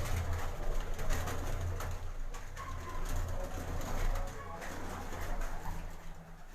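Champion racing pigeons on a rooftop loft in Gujranwala give a steady, continuous low cooing that runs through the whole stretch at moderate closeness.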